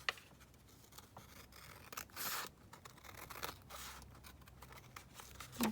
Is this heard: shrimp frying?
no